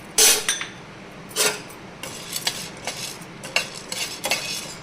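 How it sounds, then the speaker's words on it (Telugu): Chana dal roasting in a hot pan while being stirred, with sharp irregular scrapes and clinks of a utensil against metal recurring every half second or so, close and clear with no talking. "ఫస్ట్ మొదట మనం శనగపప్పు వేయించుకుందాము."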